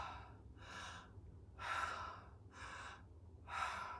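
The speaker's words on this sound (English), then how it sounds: "Breathe in." Breath drawn in and let out during a left-cheek jaw stretch, heard as three faint, soft airy breaths spaced evenly, close to the microphone in a quiet room.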